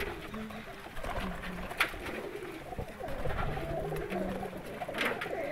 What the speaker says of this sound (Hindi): काफ़ी प्यारे कबूतर हैं